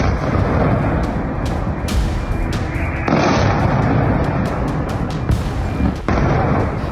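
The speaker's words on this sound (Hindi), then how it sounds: "तेल अवीव के कई इलाकों में धमाके के साथ ही आग की लपटें उठती हुई दिखाई दी।" Loud, continuous rumbling noise broken by sharp blasts and booms at irregular intervals, with no voices, from missile strikes on Tel Aviv.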